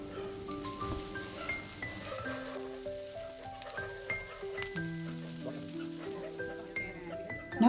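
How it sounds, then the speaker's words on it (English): Capsicum pieces are stirred and cooked in a pan with onion, garlic and ginger, giving a light, steady sizzle beneath soft background music, with a louder clatter at the very end. "Once the onion and garlic ginger is ready, add the capsicum pieces. While stirring, let it cook for 1 minute"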